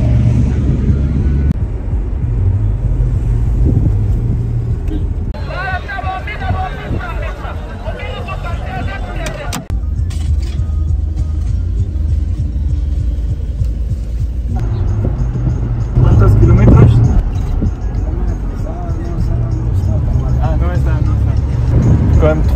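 Inside a shared collective taxi in Bissau with about 370,000 km on it, a loud continuous road rumble and engine drone fills the cabin while passengers chatter throughout.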